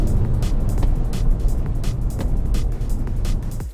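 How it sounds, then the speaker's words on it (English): A BMW M140i accelerates hard down a long racetrack straight, a continuous loud engine roar and road noise heard close from onboard with no talk. "Down the long Levant straight, the 140 stretches its legs and gets well ahead of the Focus by the braking point"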